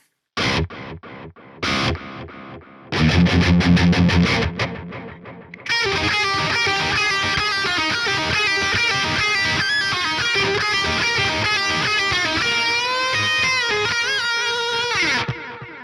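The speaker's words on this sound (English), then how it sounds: "listen to the delay without the reverb" A heavily distorted electric guitar plays through a high-gain amp plugin with delay and no reverb: stop-start chugging bursts and a fast tremolo-picked flurry, then a long sustained run of notes that repeat and echo behind, loud and up close.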